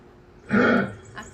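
A sambar deer gives a single short, hoarse bellow, close and fairly loud, with a faint second grunt just after.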